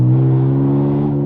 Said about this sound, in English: I mean, it's just center dumped straight underneath the car. So we're getting all the noises, bangs, pops, everything.